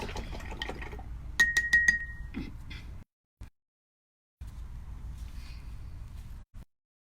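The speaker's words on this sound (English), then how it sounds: "Rinse it out." A paintbrush is rinsed in a glass of water, with close swishing and sloshing, a few sharp clinks of the brush against the glass, then a pause and another burst of swirling.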